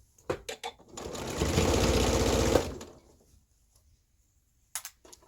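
A domestic sewing machine stitches a dress in one close, whirring run of about a second and a half, with light clicks and taps just before and after it.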